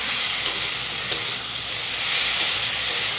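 Spices with turmeric, salt, ginger, garlic and chilli paste fry and are stirred in a pan alongside vegetables and a fish head, a steady close sizzle with two brief clinks of the spoon.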